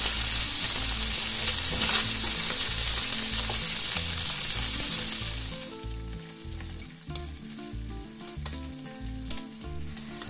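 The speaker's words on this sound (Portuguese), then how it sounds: "E vamos fritar o bacon até ele ficar bem douradinho." Bacon fries in a pan, a loud, steady hiss that quiets partway through while a low rhythmic hum continues underneath, with no talk.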